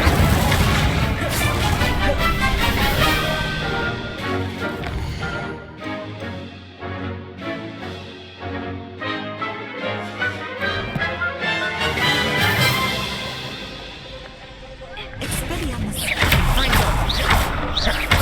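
Spell blasts in the Hogwarts Legacy video game, thudding booms and crashes layered over loud continuous music with spoken incantations throughout.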